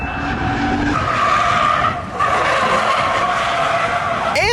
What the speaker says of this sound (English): I was definitely drifting this thing last weekend with about 3/4 horsepower.